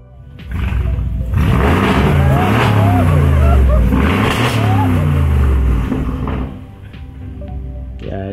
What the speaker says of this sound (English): Let's see if we could have a listen here at the engine.